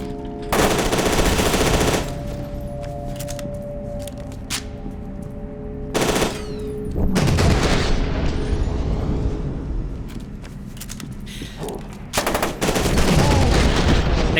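Shotgun blasts and heavy 50 cal fire in the video game FEAR 2, loud bursts of rapid automatic shots separated by brief pauses and punctuated by booming single blasts.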